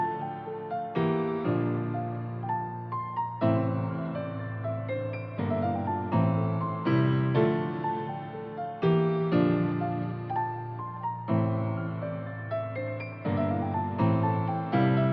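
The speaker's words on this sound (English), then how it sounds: "So that's the piano now. It sounds like this." A synth piano preset plays an emotional melody in FL Studio for a hard trap beat, chords and notes repeating in steady phrases with a sustained low bass underneath, clear and up front with no talk.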